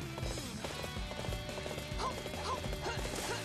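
Rapid clip-clop of a horse's hooves galloping in Dynasty Warriors 8, a steady drumming rhythm under busy battle noise and music, with short whinny-like calls rising above.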